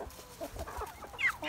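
Hens, including Australorps and light Brahmas, cluck softly in a short, quiet burst of low, uneven clucks and murmurs with one higher squawk near the end.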